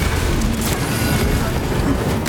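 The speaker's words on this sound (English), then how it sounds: "I'm shooting him." Heavy gunfire and booming blasts in Warhammer 40K Space Marine 2, a dense continuous barrage filling the clip, loud and close, with voices talking over the combat.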